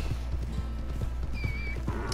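Donkey hooves clopping at a steady walking rhythm in Red Dead Redemption 2, with a brief high whinny-like cry near the end, all over a low constant rumble.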